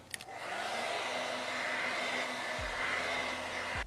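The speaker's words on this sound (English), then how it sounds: "Use my blow dryer on high and hot." A hair dryer blows steadily on high and hot, a constant loud whooshing hum with no talking.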